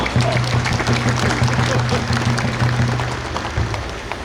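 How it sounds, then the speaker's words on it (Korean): An audience at a 2022 union branch gathering applauds steadily to welcome arriving guests, a dense, even clatter of clapping lasting several seconds under a low, steady hum. "큰 박수로 환영해 주십시오"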